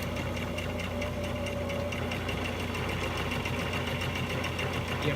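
Sewing machine stitching curtain fabric, a steady rapid mechanical whirring and ticking needle rhythm running continuously at close range, moderately quiet, with no talking.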